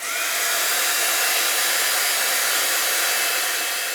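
A heat tool blows a steady, loud, unbroken hiss-roar as it force-dries wet Rust-it paint, with no other sounds.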